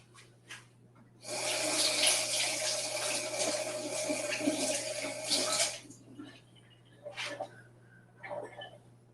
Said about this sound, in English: I'm gonna rinse my hands off real quick.